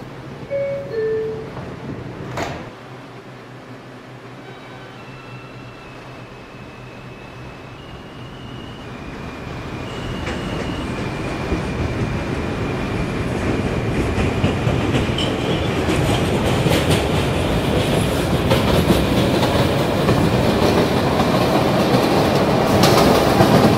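An R142 subway train bound for Flatbush Avenue on the 5 line pulls out after a brief chime and accelerates, its motor whine rising and wheel clatter building into a loud, steady rumble.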